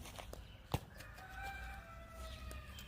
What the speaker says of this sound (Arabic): ديك البرابر، ديك البرابر